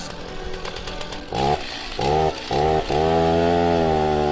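A close, loud chainsaw engine runs alone, rising in short revving bursts and then holding a steady high rev.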